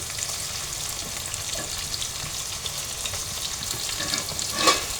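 Shelled shrimp fry in a pan with chopped onion and green chili, giving a steady close sizzle and crackle with occasional stirring scrapes, ending in a brief louder burst near the end.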